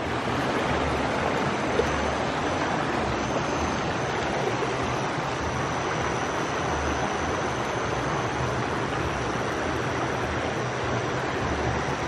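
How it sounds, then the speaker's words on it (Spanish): A clean river flows beneath a small bridge, giving a steady, unbroken rush of water that stays close and even from start to finish. "Está bonito este río, está bien limpio, ¿eh?"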